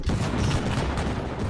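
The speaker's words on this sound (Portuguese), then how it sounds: "Os tiros aí fora" Gunfire outside in the survival video game Rust, a dense, booming burst of shots that fills the short moment without speech.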